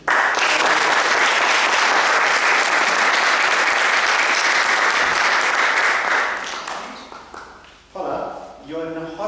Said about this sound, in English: can we give a big round of applause to Paula Lewis